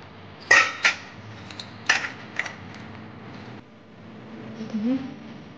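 Knife cutting roasted, peeled eggplant on a board, a few short sharp taps and scrapes near the start, then quieter handling with faint background noise.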